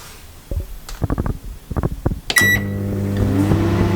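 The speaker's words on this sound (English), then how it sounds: "straight into the microwave." A microwave oven heats a bowl of Samyang Buldak rice cakes on high. Several clicks and button taps come first, then the oven starts with a beep and settles into a steady, close hum.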